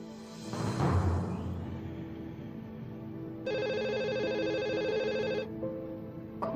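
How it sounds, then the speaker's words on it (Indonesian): A telephone rings in a bright, repeating electronic trill that runs for about two seconds mid-clip and then stops unanswered, following a louder rush of indoor room noise and a faint shuffle; no voices are heard. "Saya mau telepon Adrian."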